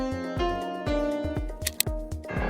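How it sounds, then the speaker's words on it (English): The free Keyzone Classic piano plugin plays sustained chords over a steady pulsing kick pattern from an Afro House beat, with a couple of bright percussive accents near the end. "For the chords, I loaded up this free piano called Keyzone Classic."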